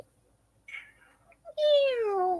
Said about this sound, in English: She's just kind of a pitiful meow.